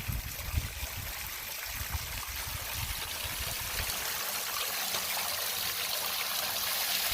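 River water flows steadily beside a walking trail near a well, a soft continuous rushing wash with faint low bumps early on, gently growing a little louder.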